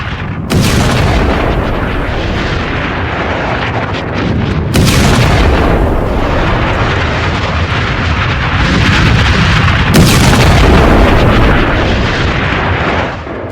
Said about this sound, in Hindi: इजराइल ने जो टनल है, सुरंग, उसमें धमाका करके उसे उड़ा दिया है,